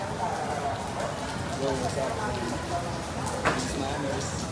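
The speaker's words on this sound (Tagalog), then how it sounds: "Dito muna kami. Patila ng ulan." Steady rain falls at an outdoor shelter at Ocean Park, a constant hiss and patter running throughout, with people chatting over it.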